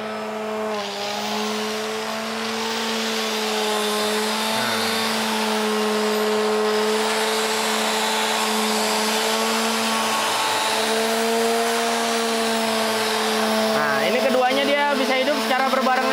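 An angle grinder and a sheet sander run together off a portable power station drawing nearly 600 watts, giving a steady, loud motor whine with a strong tonal hum throughout and a shifting, rising note near the end.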